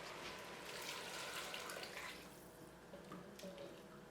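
Vegetable broth pours steadily into a soup pot, a soft continuous liquid splash and gurgle that holds close for a few seconds and then eases off toward the end.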